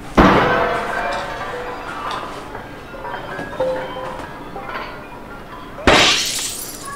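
Glass panes shatter in the Foresight Sports golf simulator video game's greenhouse glass-break challenge: a loud bright crash at the start, then faint tinkling debris, and a second sharp shatter near the end.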